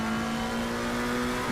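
A race car at Brands Hatch holds a steady engine note while the driver works the gears to rotate the car, loud and close with no talk over it.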